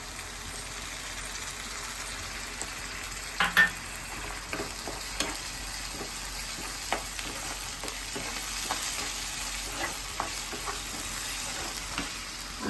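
Onion paste frying in a pan while tomato paste is added for a mushroom curry, a low continuous sizzle under scattered clinks and scrapes of stirring, with one louder clatter early on.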